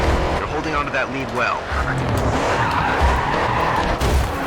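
A car skids through a handbrake turn in the GRID 2 racing game, with a loud, sustained tire squeal and an engine roar running throughout, while a voice talks over it.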